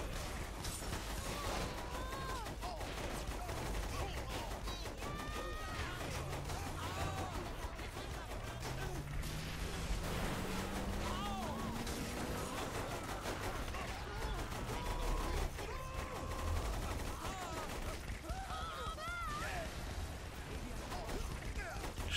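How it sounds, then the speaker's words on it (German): Rapid laser rifle fire from Saints Row: The Third, steady bursts of zapping shots mixed with explosions and game noise running throughout, with someone talking over much of it. "Ach komm, wir nehmen das Lasergewehr."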